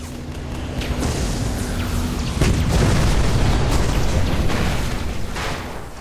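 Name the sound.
Halo video game rocket Warthog firing, big explosions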